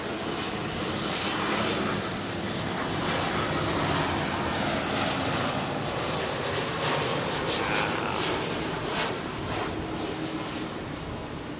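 A Lufthansa airliner passes at London Heathrow Airport, its jet engines producing a loud, sustained roar that swells slightly and stays broad and steady across the whole stretch, with no talking.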